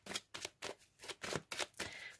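Tarot cards are shuffled and cut by hand in a series of about eight quick, crisp riffling bursts, evenly spaced and fairly close, with no talking over them.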